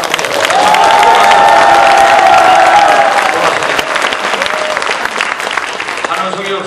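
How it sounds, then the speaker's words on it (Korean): Loud, sustained applause with cheering and a few raised shouts fills a hall at a company family festival concert featuring an operatic tenor, continuing unbroken at full strength throughout. "박수 소리가 너무 작네요"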